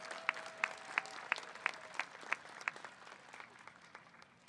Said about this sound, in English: Let's give everyone a big applause.